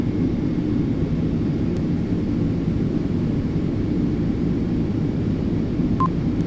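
Cabin of a Boeing 777X in flight from Seattle to Phoenix: a steady, loud low roar of engine and airflow with no change, plus a brief faint electronic chirp near the end.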